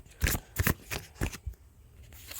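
A deck of oracle cards is shuffled close up in a quiet room, in several quick riffling bursts that trail off into softer handling, with no talking.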